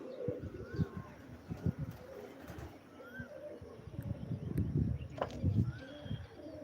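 Pigeons coo in soft, repeated low phrases nearby, layered over outdoor background noise, with a few faint chirps mixed in.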